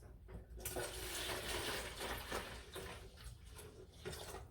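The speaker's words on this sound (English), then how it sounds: "I'm gonna pour my simple syrup first." Still-hot simple syrup made from sugar pours into a pitcher in a steady, splashing liquid stream that runs for several seconds without speech.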